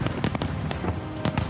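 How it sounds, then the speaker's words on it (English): Fireworks go off over Windsor and Detroit on a hot June night, a rapid run of sharp, loud bangs and crackles fairly close by, irregularly spaced and clustered over a second and a half. "fireworks night is set to pop off"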